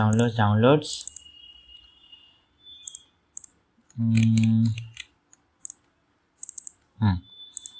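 Keys clatter on a computer keyboard as a name is typed and enter is pressed, with soft, quick, close clicks between bursts of a man's speech.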